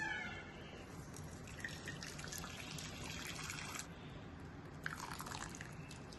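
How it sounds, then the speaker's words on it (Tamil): Water drains from boiled greens in a Tamil kitchen, making a quiet, steady trickle with soft drips that runs unbroken throughout. "இந்த கீரையில இருக்கிற தண்ணியை ஃபுல்லா நம்ம இருத்தரணும், அப்படியே வடிச்சிடணும்."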